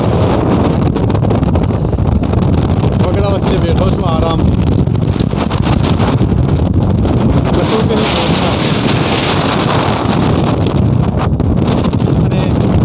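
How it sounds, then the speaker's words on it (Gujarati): Strong wind from the first storm of the monsoon season in Nava Bakarpur roars loud and constant against the microphone throughout, with someone talking under the gusts. "આ આવનારી વર્ષા ઋતુની પહેલી આંધી"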